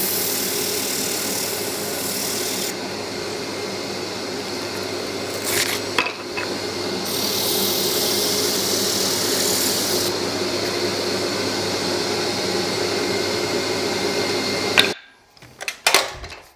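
A wooden oval box being sanded, an even, sustained abrasive whir with brief changes in pitch and a couple of small clatters, ending in a few sharp knocks as work stops.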